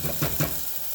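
Onions, red peppers and minced garlic sizzle steadily in hot oil in a pan, a dense close hiss with a couple of brief stirring pulses near the start.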